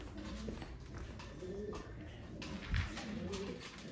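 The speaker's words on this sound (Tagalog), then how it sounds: "mga kalapati po" Breeding pigeons in a loft give soft, low coos at a moderate distance over a steady background hum.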